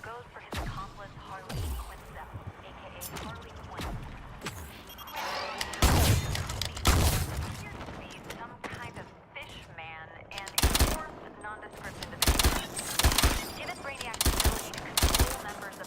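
Gunfire from weapons in Suicide Squad: Kill the Justice League, bursts of rapid shots and sharp impacts scattered across the stretch, loud and busy, with game effects and occasional talk underneath.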